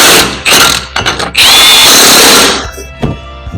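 Hand wrench tightening the brake caliper bolts on a Citroen Relay van during a pad and disc job, heard as bursts of ratcheting and metallic clicking with a sustained grinding stretch in the middle, close and loud.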